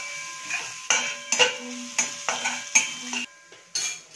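Ginger paste fries in a pan for egg fried rice, with a run of sharp utensil scrapes and clinks against the pan over a faint sizzle, close and fairly loud, with no talking.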